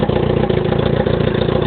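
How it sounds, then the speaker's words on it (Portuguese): A Yamaha R1 sport motorcycle with a full straight-through exhaust roars loudly and steadily up close, a dense, pulsing engine note with a rough clatter and no pauses. "acabei de acelerar na pista, dá um treino. Olha o ronco dela."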